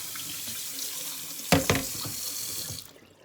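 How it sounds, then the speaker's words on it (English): Tap water runs into a sink over a 28-ounce bag's worth of frozen okra, a steady splashing rush with two sharper bursts midway before the flow cuts off near the end. "I ran water on it to knock the ice off."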